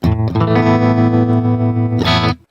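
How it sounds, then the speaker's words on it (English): A loud, sustained electric guitar chord played through a Line 6 POD HD500X tremolo effect rings out with a pulsing, wavering volume, then a second strum is struck and cut off. "And here's with the tremolo."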